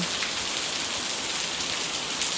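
Heavy rain pouring down in Chanthaburi, a loud, dense, continuous hiss of drops hitting surfaces with no pauses and no voices.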